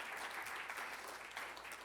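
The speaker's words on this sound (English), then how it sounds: "Please join me in giving Terry an in-person and virtual round of applause for all of her achievements" A faint, distant round of audience applause at an awards moment, a soft, even clatter of many hands lasting about two seconds.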